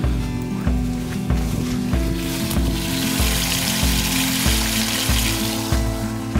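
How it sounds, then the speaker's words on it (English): Water drains from a cottage water tank during closing up for the season, a rhythmic gurgling and sloshing that pulses about every half second, close and fairly loud, with no talk. "time to close up the cottage, which means emptying the water tank"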